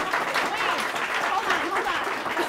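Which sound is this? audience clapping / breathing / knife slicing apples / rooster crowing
audience clapping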